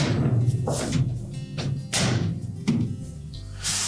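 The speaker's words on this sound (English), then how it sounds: "And then just bump them into place." On a Whirlpool refrigerator, arrowhead fasteners on an access panel are bumped into spring clips, a series of loud close thuds and knocks in an irregular rhythm.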